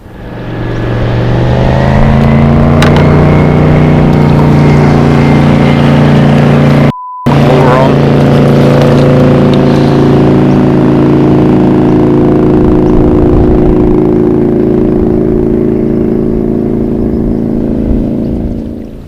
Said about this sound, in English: Sometimes you get a boat go through